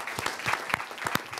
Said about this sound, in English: I think a round of applause for the nurses